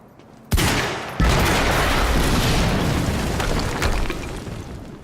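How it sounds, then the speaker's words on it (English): Two heavy booms from an explosion in the video game Quantum Break, the second setting off a long, dense roar of rattling gunfire and rumbling debris that fades slowly over several seconds. "HQ, we just heard an explosion near the harvesting perimeter."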